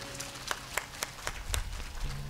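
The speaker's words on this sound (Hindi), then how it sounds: "तालियां होनी चाहिए इनके लिए जोरदार।" A crowd at a Hindu religious gathering claps for an MLA in slow, rhythmic beats, with steady sharp claps over low background tones and murmur.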